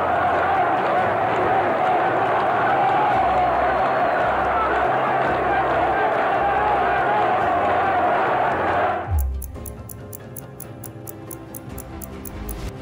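A large crowd at Ceaușescu's outdoor rally roars and claps in a dense, loud, continuous wash for about nine seconds, then cuts abruptly to a quieter scene with faint rhythmic ticking.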